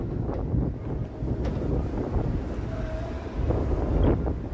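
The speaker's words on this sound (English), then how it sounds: "All of a sudden it's windy again." Strong wind in Toronto buffets the microphone in continuous gusty rumbles, with faint water and boat noises beneath.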